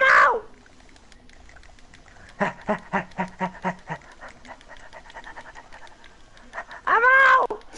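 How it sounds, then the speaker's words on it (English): A person pants rapidly and rhythmically like a dog, a quick burst of short breathy huffs standing alone and fairly close, with brief louder vocal outbursts at the start and end. "Stop panting like a little dog!"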